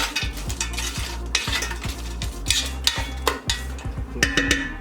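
Previously frozen clams being stirred with sesame oil and chili sauce for kimchi soft tofu stew, a repeated rhythmic scrape and clack of a utensil against the pot over a light sizzle, close and uneven, no talking.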